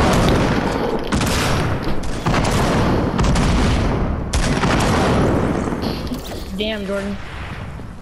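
An enemy blown up in a video game, with booming blasts and gunfire rolling through a loud, chaotic stretch before tapering off, while a player calls out over it.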